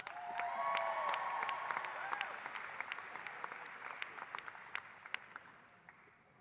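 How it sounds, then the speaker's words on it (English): Applause at a medical school hooding ceremony, a broad wash of clapping with a few cheers that peaks early and slowly fades to scattered individual claps, faint voices in the hall. "We have to clap more."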